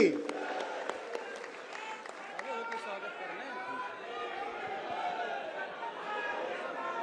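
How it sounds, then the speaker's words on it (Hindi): A large crowd at a BJP party-worker gathering in Uttar Pradesh welcomes the new state president with applause, a dense, steady wash of clapping and chatter that stays loud throughout, with voices shouting and talking within it. "एक बार जरा तालियों की गड़गड़ाहट से स्वागत करेंगे।"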